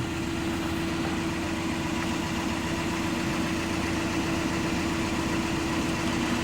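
A gentleman's motor launch on the Norfolk Broads chugs past with a steady, low engine drone, continuous and fairly close, with no voices.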